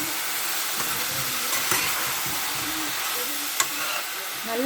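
Chopped brinjal stirred and sautéed in a hot pan for a Tamil dried fish curry, a steady low sizzle with occasional scrapes and clinks of the spoon against the pan.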